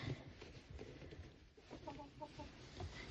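Chickens cluck softly at close range in a coop among greens, a few short bursts of clucking over a busy, rustling background with no talking.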